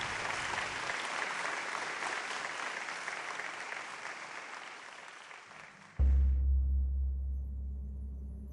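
Applause from a large crowd, a dense continuous clapping wash for about six seconds that cuts off abruptly into a low rumbling tone.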